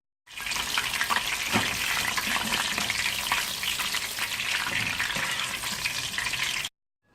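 Chicken pieces sizzle in hot oil in a pan for a sweet and sour dish, giving a steady, loud, dense frying hiss with faint scrapes of stirring throughout and no voices.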